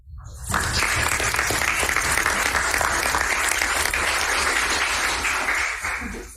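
An audience at a school board meeting breaks into steady applause that starts abruptly, holds as a dense even roar of clapping for several seconds, then tapers off.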